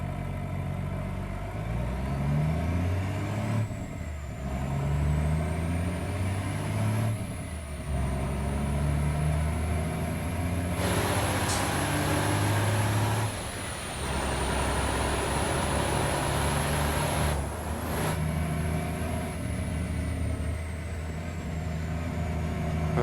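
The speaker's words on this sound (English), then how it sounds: "full throttle now" A Gavril MT-Series truck in BeamNG driven at full throttle, a loud droning engine climbing through the revs with brief drops at each gear change, steady and close throughout with no talk.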